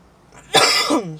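A single sharp, loud cough close to the microphone after a brief quiet moment.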